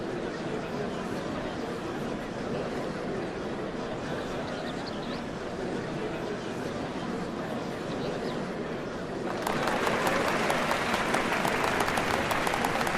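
A large crowd applauds in a Final Fantasy XIV scene, a steady wash of clapping that swells noticeably louder and brighter near the end.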